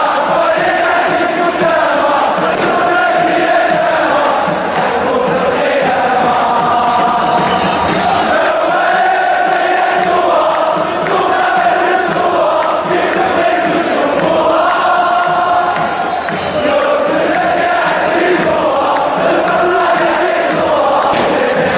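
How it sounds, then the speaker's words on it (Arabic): Moroccan football fans in a stadium, a huge crowd chanting and cheering in rhythmic waves, loud and dense throughout, with a steady roar sustained under the chant. "الجمهور المغربي يا جماعة ينزل أي استاد فيه طاقة إيجابية"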